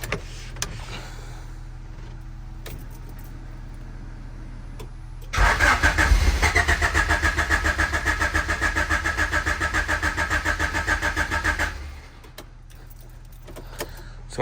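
A turbocharged Honda H22 engine in a CB7 with a starting fault is cranked and catches, after quiet moments with a key jingle, into a loud rhythmic churning run lasting several seconds before cutting off.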